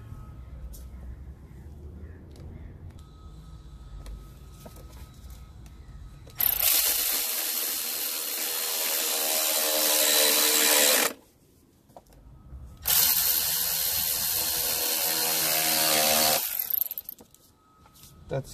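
Two whirring bursts of a power tool tightening 10 mm bolts during a starter replacement on a 2004 Toyota Corolla, each several seconds long and close, with quieter work noise between them.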